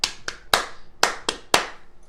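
Hands clapping a simple rhythm in a kindergarten lesson: six sharp claps in an uneven pattern of two, one, two and one, close and crisp with no talking.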